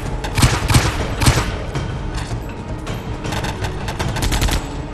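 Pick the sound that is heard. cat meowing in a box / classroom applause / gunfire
gunfire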